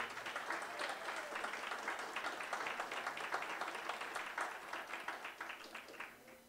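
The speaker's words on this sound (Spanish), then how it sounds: "Un aplauso para él, por favor." Applause from an audience at a jazz concert, a steady wash of many clapping hands that stays even for several seconds, then thins slightly near the end.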